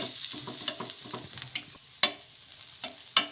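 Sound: moong dal gunta ponganalu frying in a pan

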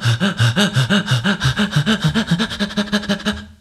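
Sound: breathing in and out rhythmically

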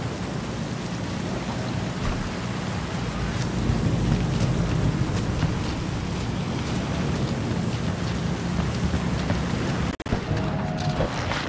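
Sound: rain in the video game Cyberpunk 2077

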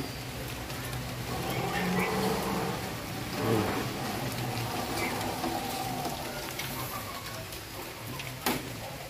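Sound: heavy rain

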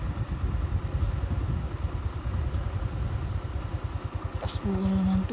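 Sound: motorcycle engine idling in flood water

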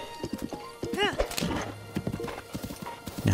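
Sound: horse hooves and neigh, video game

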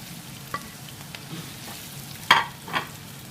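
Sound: stir-frying onion and fresh shrimp in a pan

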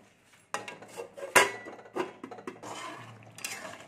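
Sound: covering the potato-brinjal curry pan with a lid

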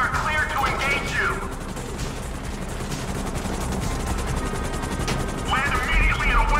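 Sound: helicopter in GTA 5 video game

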